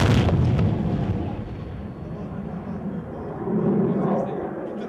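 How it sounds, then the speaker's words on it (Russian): Deep rumbling booms of distant aerial bomb explosions during a military exercise, rolling through as a heavy low roar that fades and swells again. "Сразу после этого взрывы, по замыслу учений, это авиационные снаряды."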